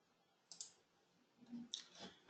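A mouse button clicks on an add button in helpdesk software, a couple of faint, quick clicks in an otherwise quiet room.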